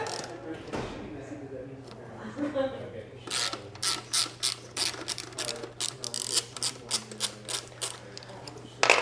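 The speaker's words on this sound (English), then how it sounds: "get a 13mm socket. We're just going to loosen up one side to start." A 13mm socket on a ratchet loosens a bolt during a fly screen install. After a quieter start with some low background sound, a run of quick rhythmic clicks builds, close and distinct.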